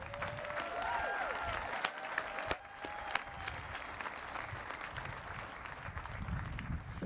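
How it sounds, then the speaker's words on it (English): A commencement crowd at Occidental College claps for the college's new 16th president, with steady applause running the whole stretch, some sharp individual claps standing out and faint whistles early on. "a round of applause for Occidental's 16th president"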